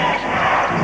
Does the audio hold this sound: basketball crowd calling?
yes